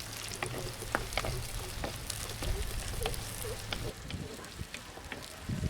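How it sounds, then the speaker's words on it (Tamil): Shallots crackle and sizzle in hot oil with quiet popping, a steady frying sound close by. "இப்போ நறுக்கி வச்சிருக்கக்கூடிய சின்ன வெங்காயம் இதில் சேர்த்துடலாம்."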